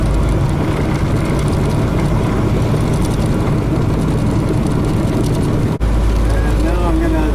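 Heavy truck engine with a 13-speed transmission, droning loud and steady through a main-box shift from 5th high down to 4th high, with a brief dip where the clutch and throttle break before the rumble resumes.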